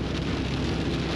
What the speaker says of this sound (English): The water's dumping right here. Dumping like crazy and flooding.